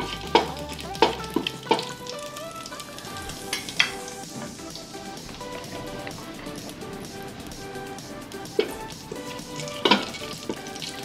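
Whole cinnamon, cardamom pods and cloves fry in hot oil in a pan for chicken biryani, giving a steady soft sizzle with a few sharp clinks and scrapes of stirring scattered throughout.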